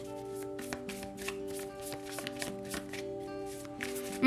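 Tarot cards being shuffled by hand, a rapid series of crisp riffling bursts and soft slaps repeating steadily over a low background hum, close and clear.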